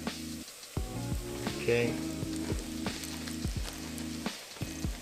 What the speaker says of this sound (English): So gradually we're going to add our okra